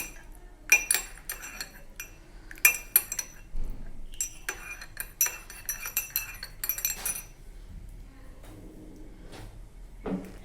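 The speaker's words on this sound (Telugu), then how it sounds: "తేనె కలిసేలాగా, నిమ్మకాయ తేనె రెండు కలిసేలాగా కలుపుకున్నాము." A spoon clinks repeatedly against a glass while stirring honey and lemon into homemade jeera tea, with sharp, close metallic taps in irregular clusters that fade toward the end.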